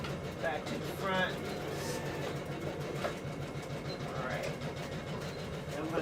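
A sewing machine runs steadily while it stitches a small jacket sleeve, a continuous mechanical whir close by, with a voice talking over it at times.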